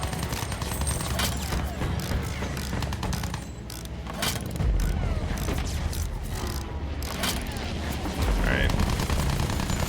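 Anti-aircraft gunfire in a video game, with dense rapid bursts of shots and booms running nearly continuously and loudly throughout, under occasional speech.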